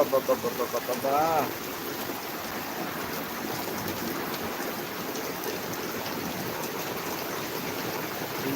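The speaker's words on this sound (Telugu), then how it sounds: "కాకినాడలో దంచి కొడుతున్న వర్షం" Heavy rain pours down steadily in Kakinada, a dense, continuous roar of falling water that fills the whole stretch, preceded by a brief burst of voice at the start.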